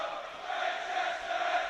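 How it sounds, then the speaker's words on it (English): Football crowd at an FA Cup match between York City and Chester, a broad sustained roar of many voices heard from a distance, steady throughout with no clear individual chants. "Just the noise in the crowd here."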